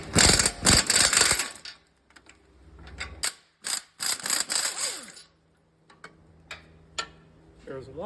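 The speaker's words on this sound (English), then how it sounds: "the first thing we're going to do is remove the electronic brake caliper. And that caliper bracket bolts are a 24 millimeter" A wrench ratchets against tight 24 mm caliper bracket bolts on the rear brake of a 2022-2024 Ford Expedition, giving bursts of clicking with mechanical clanks and pauses in between.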